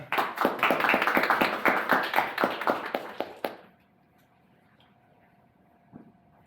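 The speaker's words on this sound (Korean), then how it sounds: "박수 부탁드립니다" A small conference audience claps to welcome a speaker at a Python and Linux tech talk, sharp distinct claps in a quick, uneven rhythm for about three and a half seconds before cutting off into near silence.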